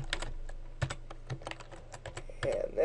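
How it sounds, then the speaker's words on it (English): Computer keyboard typing while entering text into a table in Microsoft Word 2010, a quick run of close, soft key clicks at a steady uneven rhythm, with a brief faint voice near the end. "So now I can go ahead and type Timothy."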